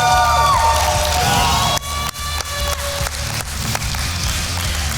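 An esports crowd at Dreamhack Anaheim cheers and shouts loudly and steadily throughout, a dense wall of voices with a few sharp claps or knocks cutting through.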